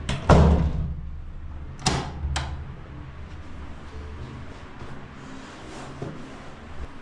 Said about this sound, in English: strange knocking sounds begin to happen on the wall.